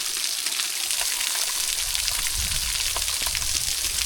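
Steady broadband rush of a waterfall pouring into a rocky grotto at Tonto Natural Bridge, Arizona, a continuous close wash of falling and splashing water with no talk over it.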